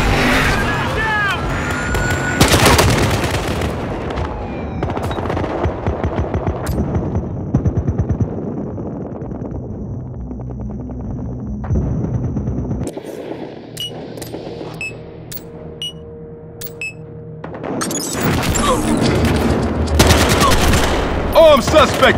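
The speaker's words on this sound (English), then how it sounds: "SUV with a heavy gun." An SUV-mounted heavy gun in Battlefield Hardline fires in loud sustained bursts amid vehicle engine rumble and other battle noise, with a brief lull in the middle before heavy firing resumes.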